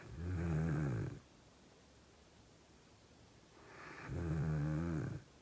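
Two female dogs snore in slow, deep rhythmic breaths, two drawn-out rumbling snores separated by a quiet pause, close and fairly soft.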